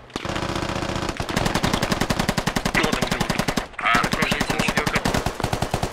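Rapid, loud automatic machine gun fire from a military video game fills nearly every moment in long sustained bursts, pausing only briefly once, with faint player chatter underneath.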